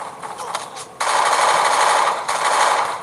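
Automatic gunfire in the Free Fire video game, with rapid, dense bursts of shots that jump louder after the first second and run almost continuously, with one brief dip near the end.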